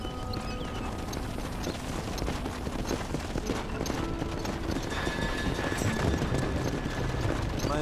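Horses gallop in Red Dead Redemption, rapid hoofbeats drumming steadily throughout beneath loud game music and rumbling background.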